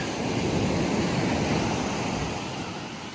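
Ocean surf and wind at Half Moon Bay beach in Northern California form a steady, loud, broadband roar of breaking waves with microphone wind buffeting throughout and no voices.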